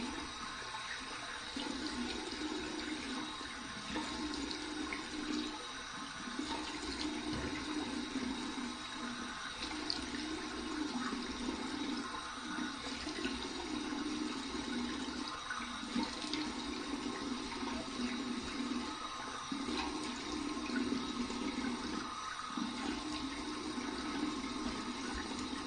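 Tap water runs steadily for a cold water rinse during a head shave, a continuous hissing splash close by with no talk over it.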